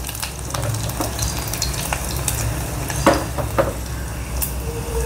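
Garlic and mustard seeds fry in hot oil for an eggplant curry, making a continuous close sizzle with a few sharp crackles and light stirring clinks and no voices.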